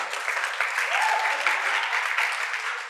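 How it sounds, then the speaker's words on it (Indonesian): A group at the NCLSC 2023 closing service claps for a participant in a brief, even burst of applause. The sound is moderately loud and steady, with a faint voice underneath. "Tepuk tangan dulu buat dia"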